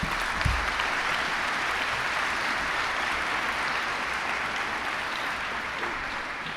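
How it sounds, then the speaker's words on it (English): Sustained round of applause from a large audience at a university presidential inauguration, steady and even throughout, with no talk over it. "we can have a round of applause"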